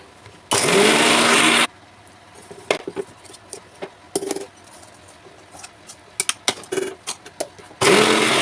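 A kitchen mixer grinder whirs loudly in two short bursts, grinding peanuts, garlic and salt, with clattering and handling knocks of the jar in between.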